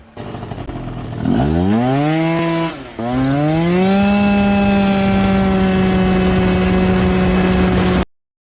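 A Yamaha Zuma scooter fitted with a 70cc big bore kit launches hard, its two-stroke engine revving up sharply to a high buzzing whine, briefly dipping, then holding a loud, steady high-RPM drone before cutting off abruptly.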